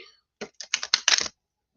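A deck of cards is shuffled up close in a quick burst of several crisp riffling clicks, ending abruptly in silence.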